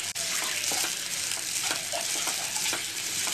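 Grated coconut sautéed in a pan: a continuous bright sizzle with soft intermittent stirring scrapes, close and steady, no talking.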